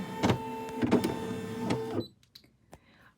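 An embroidery machine powers on, giving a few loud mechanical whirring bursts with clunks over about two seconds, then settling into faint clicks and beeps.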